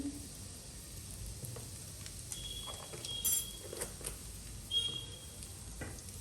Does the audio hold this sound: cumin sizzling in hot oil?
yes